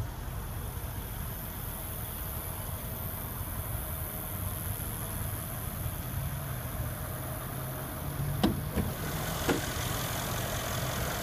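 A 2015 Mercedes-Benz CLS 63 AMG S with its 5.5-liter bi-turbo V8 idles steadily, a low, even rumble running throughout, with a few brief clicks near the end.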